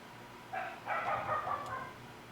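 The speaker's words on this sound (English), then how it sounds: "Bark, bark, bark, bark, bark. That's my dog." A dog barks a few times in quick succession, faint and somewhat distant, with a low background hum and no talking.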